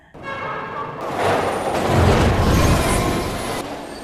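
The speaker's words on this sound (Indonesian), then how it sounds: "kereta sudah dekat melaju ke arahnya" A train comes in on the rails with loud, building rumble and wheel roar swelling over a few seconds, then easing slightly, with no voices.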